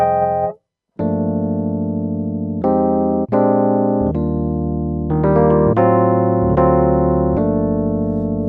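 Rhodes electric piano voice on a Yamaha CP88 stage piano: a short phrase of bell-toned chords and single notes with long sustains, one brief silent gap near the start, played alone and fairly loud.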